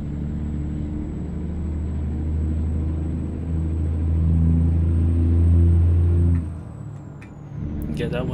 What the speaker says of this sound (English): man, look at this truck trying to pass me